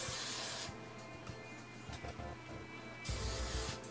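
A steady hiss of hairspray from an aerosol can, one long spray, a brief softer stretch, then a second burst, close up and alone.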